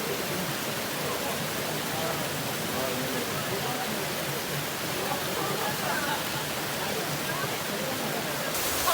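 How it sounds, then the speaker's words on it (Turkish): The Karadere stream near Kuşadası, Turkey, running high after heavy rains, rushes steadily and loudly throughout: a constant broadband roar of flowing water close by, with no pauses. "Bu yıl yağan güzel yağmurlardan sonra suyu görüyorsunuz. Muhteşem akıyor."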